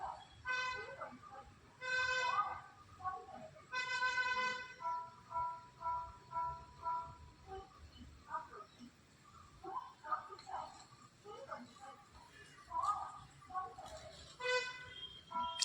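A faint, distant public address announcement of a gate closing for an approaching Jan Shatabdi train echoes over outdoor railway noise at Kaduthuruthy Railway Station, with a few short horn toots and people talking nearby.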